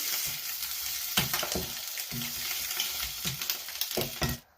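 Mung fries in oil with a continuous crackling sizzle and repeated scraping stirs of a spatula in the pan, close and moderately loud. A final clatter cuts off the sound.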